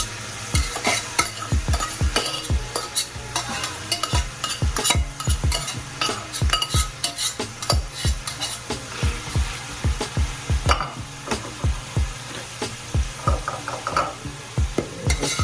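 Saltfish sizzling and frying in a pan, stirred with steady, rhythmic spoon scrapes and clatters throughout, close and fairly loud, with no talking.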